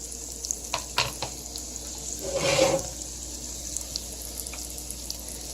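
Garlic and onion are tossed into a hot pan of leftovers and sizzle in a soft hiss that swells briefly, with faint scraping and clinks around it and no talking.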